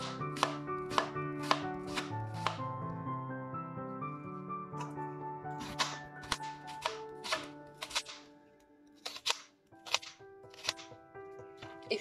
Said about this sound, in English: So now you have your half and you are going to chop thin slices.